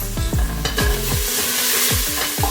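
Tomatoes sizzle loudly in a hot WMF frying pot while a spoon stirs and scrapes repeatedly through them, steady crackling frying throughout with no voices.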